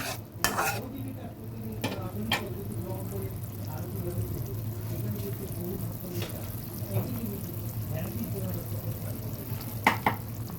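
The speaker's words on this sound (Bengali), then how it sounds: "এবার দিয়ে দিচ্ছি হলুদ ভালোভাবে নেড়ে দেব" Turmeric being stirred into a pan of frying katla fish curry with pumpkin shoots and potato, a spoon scraping in steady strokes over a continuous low sizzle, with a few sharper utensil knocks near the start and end.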